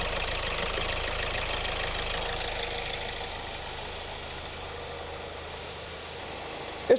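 A car engine idles after starting, giving a steady mid-pitched hum and vibration that holds for several seconds and softens slightly partway through, with no voices.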